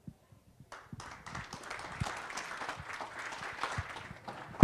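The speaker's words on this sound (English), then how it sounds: "Another round of applause for Peter Friedrich." Audience applause follows a speech at an event on Hindu nationalism, starting after a quiet moment with scattered claps and building into steady, moderately loud clapping from a crowd that continues to the end.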